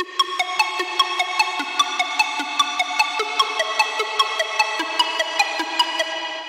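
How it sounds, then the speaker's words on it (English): Second synth arpeggio in a remix, playing a slower pattern of bright, plucky repeated notes at a steady, even pulse, alone and at moderate level with no voices. "In combination with this ARP I also added a second ARP which plays a much slower pattern."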